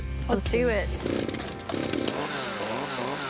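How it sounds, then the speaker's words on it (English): Chainsaws cut into wood to rough out a carving, the engine revving in bursts and snarling up and down in pitch while a person talks over it. "We're sketching with the chainsaws"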